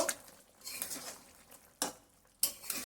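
Crushed green chilli is mixed into cooked drumstick vegetables in a pan: quiet scraping stirs with a light sizzle, coming in three short bursts separated by near silence.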